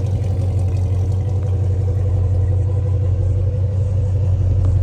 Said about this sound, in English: Dual exhaust.